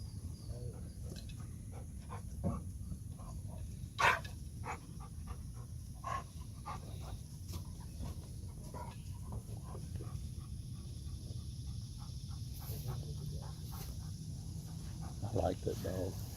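A retriever at a hunting retrieving club pants in quick, soft bursts with shuffling movement, close by under a low outdoor rumble, with a couple of sharper knocks; people talk intermittently.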